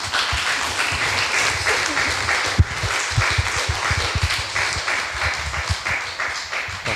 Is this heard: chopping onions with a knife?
no